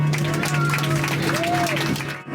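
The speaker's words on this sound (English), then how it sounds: "I get a round of applause for our amazing pilot?" Airplane passengers break into applause for the pilot after landing, a steady wash of clapping over a constant cabin hum, with voices mixed in before it fades out abruptly at the end.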